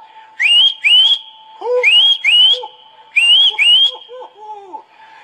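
Loud, sharp whistling in three paired bursts, each rising note repeated twice with short gaps, followed by softer warbling tones.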